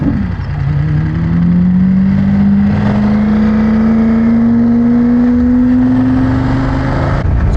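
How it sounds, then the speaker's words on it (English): A 2024 BMW F900GS motorcycle opening up under throttle on a twisty road, engine note climbing steadily in pitch over several seconds amid loud wind rush, close and continuous. "Just drop off, just gonna open it up. This bike has got more than enough power."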